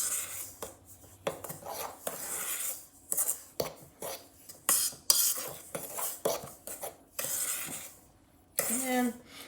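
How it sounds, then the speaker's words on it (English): Dry baking ingredients including baking soda stirred together in a bowl for a Black Forest gateau, with uneven scraping and clinking of a utensil against the bowl in short bursts and brief pauses, fairly close. "I'm just going to mix the dry ingredients up like so"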